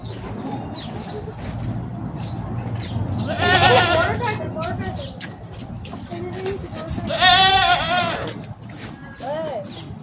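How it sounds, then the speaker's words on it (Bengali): Native goats at a farm enclosure bleat in two loud, wavering calls a few seconds apart, with a shorter cry near the end, heard under people talking nearby. "এই যে আমাদের দেশি ছাগল"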